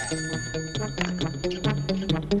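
An old-style telephone bell rings in quick repeated trills, a steady ringing pattern heard clearly and alone at moderate volume.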